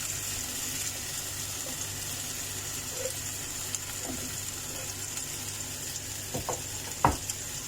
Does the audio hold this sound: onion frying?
yes